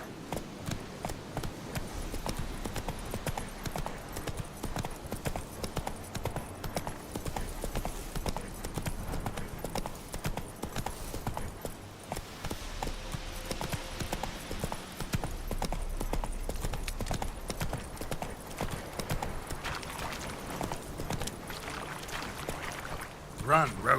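Roach the horse from The Witcher 3 galloping, with rapid continuous hoof clip-clops at a steady rhythm and occasional louder bursts, heard under intermittent talk.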